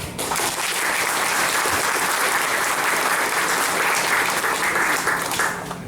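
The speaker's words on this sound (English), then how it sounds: "Will you please give this gentleman a big applause?" Big, sustained applause from a reunion audience of pilots honouring a gentleman, a full, continuous roar of many hands clapping that swells quickly and holds steady throughout.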